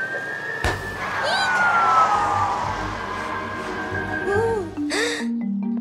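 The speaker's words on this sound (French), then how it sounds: "Fiona, le camion de pompiers, il y a un feu!" A cartoon fire truck siren wails steadily and loudly, gliding downward, then breaks into short rising and falling whoops and horn-like blasts near the end.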